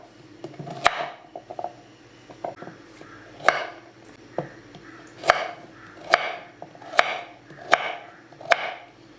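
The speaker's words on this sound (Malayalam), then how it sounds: "ഇതൊന്ന് കട്ട് ചെയ്തെടുക്കാം ഇതേപോലെ ചെറിയ കഷ്ണങ്ങളാക്കി എടുക്കാം" Washed carrots are chopped into small pieces with a knife: about a dozen crisp, close knocks on a cutting board, falling in a fairly steady, unhurried rhythm with no talking.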